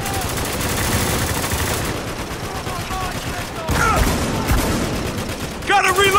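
Dense video game gunfire in Spec Ops: The Line, rapid automatic bursts and scattered shots in a loud firefight, mixed with shouting voices.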